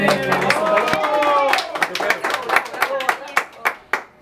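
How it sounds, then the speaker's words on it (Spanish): Guests clap for a youth mariachi band at a birthday party while an announcer talks over them. Broad applause at first settles into a steady, rhythmic run of sharp, close hand claps. "Y fuerte el aplauso que se escucha para el mariachi bonito."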